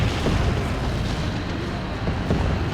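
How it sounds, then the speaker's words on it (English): A tank buster rocket barrage hitting in Warhammer 40,000: Dawn of War 2, heard as a heavy rumbling wall of explosions with several muffled booms landing in quick succession. "Very painful tank buster barrage"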